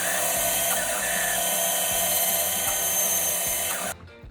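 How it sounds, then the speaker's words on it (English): A bandsaw slices through a wooden crossbow body, a steady loud high whine with a grinding cut underneath for several seconds before stopping abruptly at the end. "Now I'm going to cut out my crossbow body on my bandsaw."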